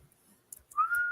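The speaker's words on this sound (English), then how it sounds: "But I just monotone whistle" A person whistles one flat, steady monotone note, short and close, preceded by soft mouth noises.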